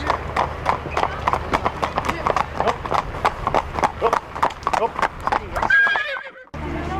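Steady clip-clop of horse hooves on a hard road reserved for horses and horse-drawn carriages, a brisk regular rhythm close by, with voices talking over it and a horse whinnying briefly near the end.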